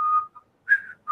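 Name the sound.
whistling imitation of a Clint Eastwood western tune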